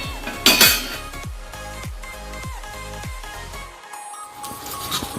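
Metal utensils scrape and clink against a pan while farali handvo is flipped, with a sharp burst of clatter near the start and then a run of regular knocking taps, fairly close and loud. No one speaks.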